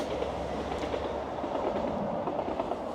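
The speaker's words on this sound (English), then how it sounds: "And there's the train." Small two-carriage train on the Welsh coast rumbling past at moderate distance, with a steady rolling roar and faint clickety-clack of wheels on rails.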